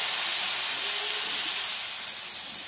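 Beef flank steak sizzles in a hot pan after being set down whole for fajitas, a steady loud broadband hiss that holds evenly and eases slightly toward the end, with no talking.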